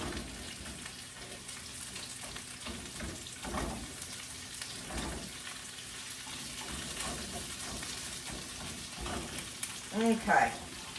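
A pan sautéing vegetables for a cheesy Swiss oven steak, with a low steady sizzle and occasional stirring scrapes, plus a louder clatter near the end.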